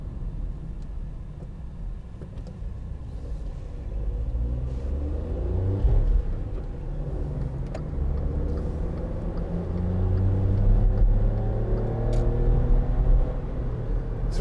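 A 2012 Volkswagen up! 1.0 three-cylinder engine runs steadily from inside the small three-door hatchback, a low continuous rumble with mild rises in revs, fairly quiet and without talk.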